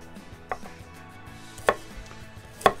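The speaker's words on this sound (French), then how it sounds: "on va pouvoir la couper en tranches assez fines" A peeled carrot sliced thin with a knife on a board, three separate sharp chops spaced apart, close and distinct against a quiet room, no speech.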